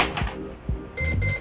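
Quadcopter electronic speed controller in programming mode emitting a series of sharp electronic beeps, a few short tones followed by a longer sustained tone, loud and close with no talking.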